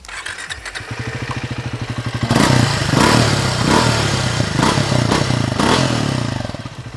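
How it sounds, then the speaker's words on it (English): A Triumph Speed T4 motorcycle engine idles with a rapid thumping pulse, then revs up in several loud blips of its exhaust before settling back. "it gets a slightly different exhaust note. Let's hear what it sounds like."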